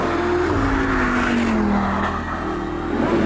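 An Audi R8 V10 Plus drives on the road, its V10 engine giving a steady, strong drone whose pitch sweeps down and then climbs again, loud and close, with no talking.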